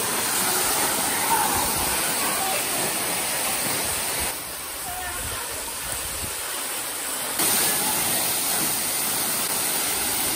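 Broadband rushing roar of the waterfall at Williamsport Falls, steady and continuous throughout with a brief slight dip in the middle, no talking.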